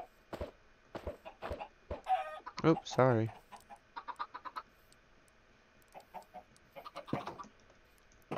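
Minecraft chickens, including a baby chicken, cluck in short, irregular bursts, with a few louder squawks partway through. A player's voice briefly speaks over them.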